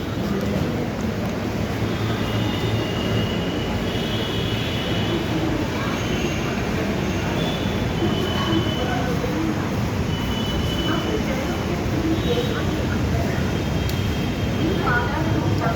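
A Hyderabad metro train runs through a station platform on the route from AIG Hospital toward Secunderabad, a loud continuous rumble and hiss that stays steady throughout, with faint higher tones above.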